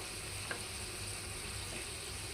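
Mixed vegetables with okra frying in a pan with oil and dry red chilli tempering, a steady soft sizzle running throughout with one faint clink of a utensil near the start.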